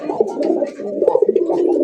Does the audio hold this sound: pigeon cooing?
yes